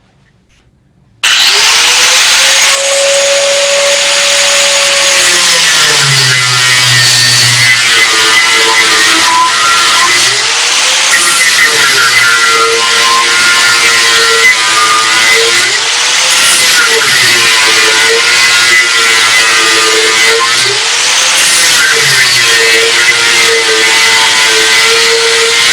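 A Razor SpeedMAX 0.6 mm (0.024 inch) 5-inch cutting disc on a grinder bites through material in four cuts, a loud continuous high whine starting abruptly, with pitch dipping and recovering as each cut loads the motor.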